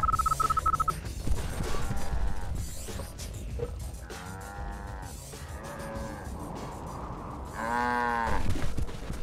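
Several cows moo in turn, drawn-out harmonic lowing calls, over a busy backdrop of game effects and mechanical noise in Command & Conquer: Red Alert 2.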